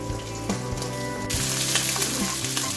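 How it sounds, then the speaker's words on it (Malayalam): Fish for Kerala pollichathu shallow-fries on a low flame, giving a steady close sizzle that suddenly grows brighter and louder halfway through, with a few faint taps underneath. "ലോ ഫ്ലെയിമിൽ വേണം നമ്മൾ മീൻ ഷാലോ ഫ്രൈ ചെയ്യാനായിട്ട്"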